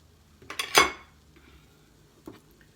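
A spoon stirring cannoli filling of cream cheese, ricotta, powdered sweetener and vanilla in a bowl, a brief cluster of clinking scrapes followed by quiet and one more light knock, close and soft, no talking.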